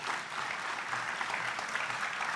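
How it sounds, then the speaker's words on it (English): At the 2016 Fairness Award ceremony, an audience applauds in a soft, dense, even patter of clapping that carries on steadily for a couple of seconds, somewhat distant and without speech. "Please give both Randy and Mary a big round of applause."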